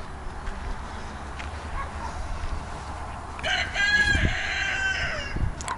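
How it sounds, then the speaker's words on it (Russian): Roosters crow in a farmyard on a quiet morning in Zelenchukskaya with the Caucasus mountains beyond, one clear crow rising partway through over soft background hum and faint clucking. "Куры кукарекают"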